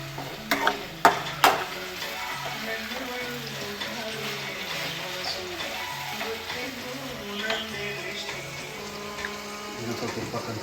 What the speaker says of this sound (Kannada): ಬೇಯಲಿ ಒಗ್ಗರಣೆ.